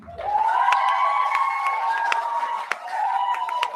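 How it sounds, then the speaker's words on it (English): An audience cheers with sustained whoops and a rising roar, punctuated by scattered sharp claps, and the crowd noise stays loud and close throughout with no clear talking over it. "They're clapping up a storm."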